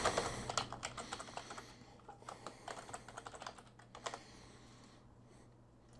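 Login credentials typed on a computer keyboard, a quick run of close, crisp key clicks in uneven bursts, fading toward the end.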